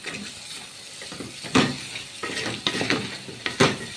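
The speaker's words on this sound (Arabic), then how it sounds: "وحطيت 4 معالق زيت وبحوره كده في الزيت" Shrimp stirred in hot frying oil for a shrimp and rice tray, a steady sizzle with repeated scraping strokes of a utensil against the pan, close and fairly loud.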